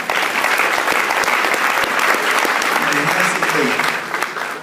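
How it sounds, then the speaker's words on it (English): Audience applause fills the room, a dense, steady wash of many hands clapping at once that keeps up the whole time and only eases slightly at the very end. "Let's give these folks a round of applause."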